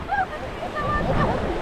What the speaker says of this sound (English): Wild river rafting.